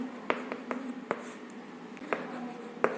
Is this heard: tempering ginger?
no